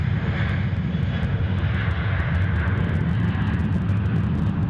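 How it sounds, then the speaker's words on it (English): A Jetstar Airbus A321 jet rolls for takeoff on runway 16 left at Sydney Airport, its engines making a loud, steady roar with no talk over it. "this Jetstar A321 that we've got rolling on runway left here, swap direction, heading out to the south now."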